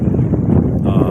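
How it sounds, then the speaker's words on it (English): Wind blowing on a windy day around an ARB vehicle awning, loud buffeting gusts rumbling across the microphone, close and continuous. "So you can see it's a little bit windy today"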